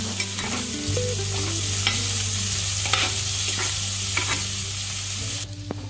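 A spice mixture with a pinch of asafoetida is stirred in a pan for a Vinayagar Chaturthi offering, giving a steady close scraping and sizzling with a constant hum beneath, continuous and fairly loud, with no one talking.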